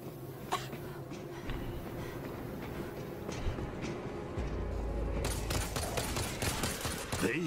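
Heavy turret gunfire in the zombie shooter World War Z, in a laboratory and factory area: a dense, continuous rattle of rapid shots under loud game noise, growing louder and harsher in the last couple of seconds.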